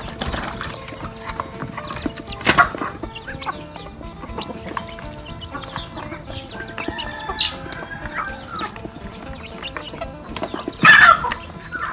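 Chickens clucking on a mixed duck and chicken farm, scattered near and far clucks and short calls over steady outdoor ambience, with a louder squawk near the end.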